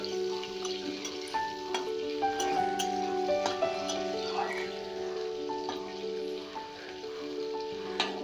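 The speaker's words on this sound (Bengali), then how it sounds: "টমেটোটাকে ভালো করে তেলে ভাজার জন্য আমি তেলের মধ্যে একটু টমেটোটাকে ভালো করে নেড়ে চেড়ে নিচ্ছি, যাতে টমেটোটা ভালো করে ভাজা হয়ে যায়।" Chopped tomato sizzling in hot oil in a pan while being stirred, for a home-cooked prawn and pumpkin dish: a steady, close crackle and hiss with intermittent scraping and clinking from the stirring.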